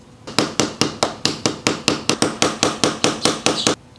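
Fourteen sharp metal hammer blows, close and evenly spaced, strike to unstake the staked front sprocket nut on a Yamaha R1 motorcycle during a chain and sprocket swap.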